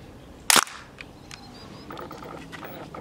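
A prototype BB gun fires once, a sharp loud crack near the start followed by faint clicks and mechanical handling sounds.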